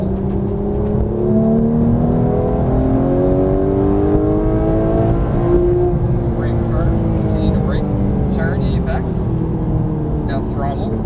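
A Porsche 991 GT3 accelerates on a racetrack under full throttle, its engine note climbing steadily through the revs, loud and continuous, while a voice coaches over the engine.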